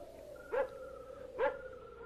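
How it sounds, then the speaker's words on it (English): A dog sound effect from a radio mystery drama, two short, sharp barks about a second apart, fairly close against a quiet background. "That barking dog."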